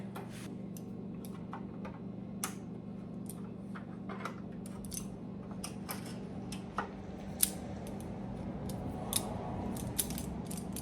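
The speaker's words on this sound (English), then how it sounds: "got a couple pair of vice grips there. Kind of clamp it in place and hold that wire in there" Vice grips clamp a wire in place during a daily-driver repair: scattered sharp metallic clicks and ratcheting snaps sound over a faint steady hum, with no speech.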